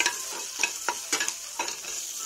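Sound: green chilli, ginger and garlic frying in a pan

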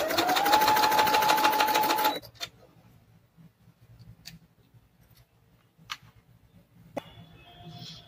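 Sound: sewing machine stitching frock dress corner

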